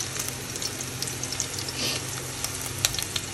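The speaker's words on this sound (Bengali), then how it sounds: "ব্যাস, আগে দিয়ে দিই রসুন কুচিটা, একটু আদা বাটা দেবো।" Chopped garlic fries in oil for biryani, a continuous close sizzle broken by a few sharp clicks and scrapes of a utensil against the pan, with no one talking.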